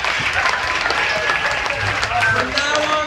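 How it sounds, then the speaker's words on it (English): An audience aboard the Disney Fantasy cruise ship applauds a hypnosis show, steady dense clapping continuing throughout with some voices mixed in. "Give them another round of applause."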